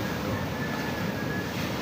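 Small waves break gently along a shoreline that is strewn with trash. The surf makes a steady, soft wash with a low rumble underneath and no voices.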